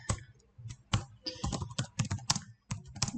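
Irregular bursts of computer keyboard typing while a comment is entered in a Microsoft Excel spreadsheet, crisp close key clicks in quick clusters with short pauses, no voices.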